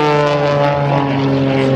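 An aerobatic propeller airplane roars loudly and steadily overhead at the 2009 Joint Services Open House air show, its engine drone holding a strong, buzzing pitch throughout.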